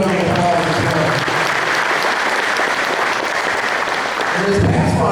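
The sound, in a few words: audience applause for award winner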